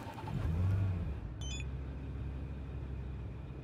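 A car engine in Cyberpunk 2077 hums steadily while cruising, with a low droning rumble that swells briefly near the start, and a few short electronic beeps chime partway through.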